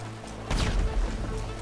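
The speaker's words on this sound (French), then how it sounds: "Wouah, c'est quoi ces explosions là?" A single sudden explosion crashes out in a Christmas-themed team shooter video game, a sharp, loud burst that trails off into a short rumble.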